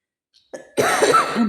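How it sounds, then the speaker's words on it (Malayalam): A single close, loud cough, preceded by a brief catch of breath, then a harsh rasping burst. "അതിലിടക്ക് ചുമയും വരുന്നത് ഭയങ്കര ചുമ"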